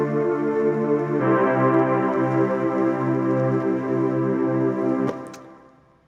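Soft, sustained synth pad chords hold steady while a Rhodes electric piano plays gentle backbeat accents, then the sound fades out at the end.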